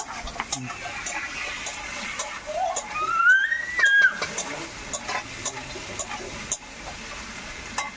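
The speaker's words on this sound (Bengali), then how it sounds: "টমেটো কুচি দিয়ে দেব, দিয়ে একটু নাড়াচাড়া করে নেব।" Chopped tomato stirred in a cooking pan alongside drumstick pieces for a tilapia fish curry, a soft sizzle with light clicks and scrapes, close and fairly quiet, with a brief higher whistling tone partway through.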